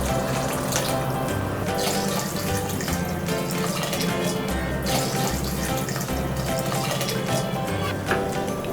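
Three glasses of water pour in a steady, continuous stream onto rice in a cooker for mushroom pulao, a close, unbroken splashing with no talking.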